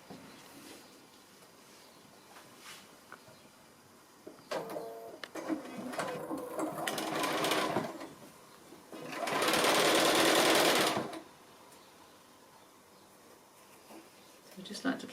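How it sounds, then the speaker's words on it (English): Sewing machine running along a quilt seam joining 60-degree diamond pieces, a short burst near the start followed by a louder sustained whir of about two seconds, with quieter handling noises before and after. "So I'm going to just sew that seam"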